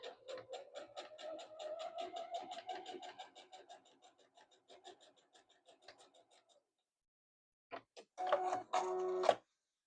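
A domestic sewing machine runs a steady burst of quilting stitches with a longer stitch length, rapid even clatter for several seconds that slows and stops, then after a pause a brief whirring restart, close and fairly quiet.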